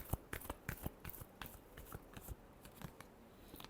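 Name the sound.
shuffling tarot cards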